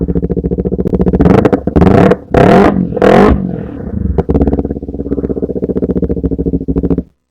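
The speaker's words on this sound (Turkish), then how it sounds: "en azından egzozunu bir kere daha dinleteyim" An Arora GP 250 motorcycle engine idles with a rapid, throbbing exhaust pulse, then revs sharply three times before settling back to a steady putter and cutting off.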